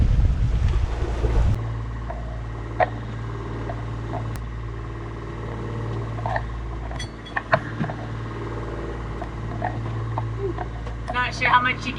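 A sailboat's engine runs steadily as a low, constant drone beneath wind and water noise on a passage against the current, while a person talks over it and occasional knocks and clatters sound nearby.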